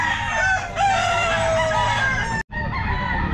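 Chickens and roosters at the Grotto pet market cluck and crow close by, overlapping calls filling the whole stretch with a brief dropout near the end.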